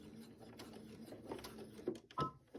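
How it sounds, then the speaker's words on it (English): A sewing machine stitching a narrow seam around the edge of a fabric coaster, a soft quiet whir with a few louder mechanical clicks and thumps near the end. "We're just going to sew about a 1/8 of an inch, if that, just around that edge to close up that gap that we made."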